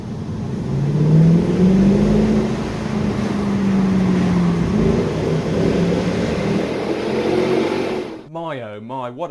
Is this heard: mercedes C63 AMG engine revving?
yes